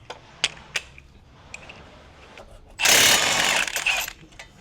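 An impact wrench on a 22 mm brake caliper bolt on a G35/G37 front suspension rattles in a loud, close burst of just over a second, after several sharp clicks from handling the tool.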